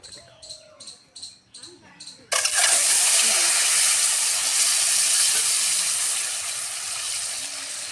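Eggs sizzle and fry steadily in hot oil seasoned with salt and turmeric, a loud continuous hiss that starts abruptly after a few seconds of quieter kitchen sounds.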